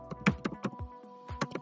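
Computer keyboard keys being typed as an email address is entered, a quick uneven run of close, crisp clicks with a short pause midway before a final burst.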